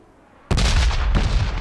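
Gunfire in the battle game PUBG bursts in suddenly, loud and close, as a couple of heavy shots boom after a moment of near silence.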